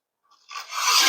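A brush rasping along the grain of wood for a DIY bird feeder, one short scratchy stroke that starts faint and swells into a loud, close, bright scrape.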